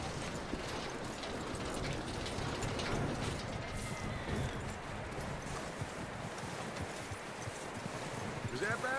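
Horse hooves clip-clopping in Red Dead Redemption 2, a steady rhythmic stream of hoofbeats mixed with creaking, rattling tack and busy game ambience, loud and continuous throughout.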